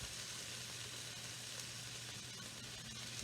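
Blended stewed tomatoes sizzle in a hot pan with a steady, dense hiss and faint crackle, close up and unbroken throughout.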